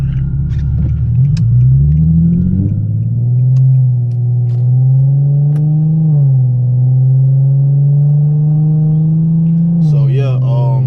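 An Infiniti G37 with a muffler delete and Vibrant resonators revs hard and climbs in pitch as it accelerates in traffic, then holds a loud, droning roar close by.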